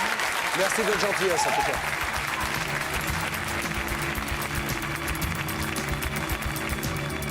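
Studio audience applause rises for two sisters on a French television programme about a home-sale scam, a dense steady wash of clapping filling the room while someone speaks over it.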